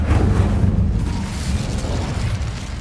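Incendio fire spell cast in Hogwarts Legacy, a loud, dense roaring whoosh of flame that holds steady with a slight fade, heard alone without voices.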